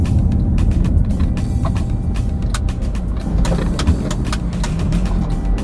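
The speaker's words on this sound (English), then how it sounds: "So I'm doing another U-turn here." Steady engine rumble of a car driving on a road near a flyover in Port Harcourt while making a U-turn, with a constant low drone and faint clicks and rattles on top and no voices.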